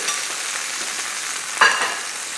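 Garlic, tomatoes and onions fry over a moderate flame with a loud, constant hiss of sizzling oil, and one brief clatter or stir rises near the end.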